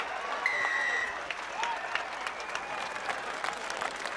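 Spectators at a schools under-19 international rugby match between South Africa and France applaud in a steady, fairly distant ripple of clapping with crowd murmur, while whistles and shouts rise briefly early on.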